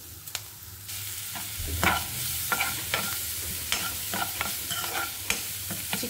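Chicken pieces frying in a pan, salted, stirred with a utensil: repeated scraping stirs and clacks over a steady close sizzle, with no voices.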